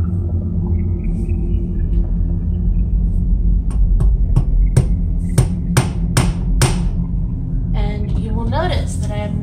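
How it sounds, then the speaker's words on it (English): A series of sharp hammer strikes on a nail going into a wooden board, about eight taps quickening in rhythm over a low steady rumble, followed by brief talking. "Notice that I am not hammering all the way through the board."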